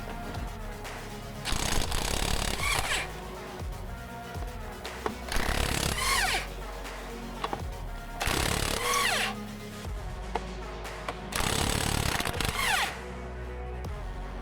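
An impact wrench loosens lug nuts on a car wheel. Four loud, rattling bursts of about two seconds each are separated by short pauses of quieter background.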